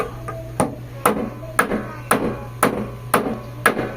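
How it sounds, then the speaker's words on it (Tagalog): Hammer gently tapping a carburettor part straight, a steady series of about eight light, evenly spaced metallic taps close by. "Dahan-dahan lang pukpok."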